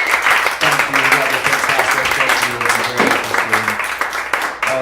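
A comedy open mic crowd applauding and cheering: dense, steady clapping with whoops, loud and continuous throughout, with voices mixed into the noise.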